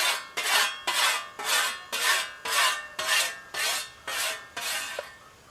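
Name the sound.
whetstone honing a scythe blade edge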